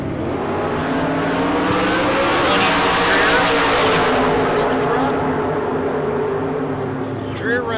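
Drag race cars blast down the strip at a Spring Fling Million event, a continuous loud roaring engine drone with a swelling pass in the middle, and an announcer talking over it.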